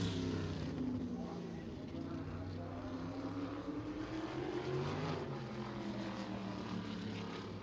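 A race car engine drones steadily at Anderson Speedway during Little 500 bump day qualifying, its pitch rising and falling slightly under a constant roar, with faint talk nearby.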